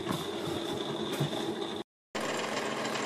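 A LEBEN cotton candy machine runs while heating up, giving off a steady mechanical whir with a faint high whine, briefly cut to silence before resuming.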